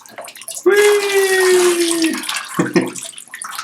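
Water gushes out of a trombone in a loud rush lasting over a second, while a voice cries out excitedly over it, followed by a few smaller splashes.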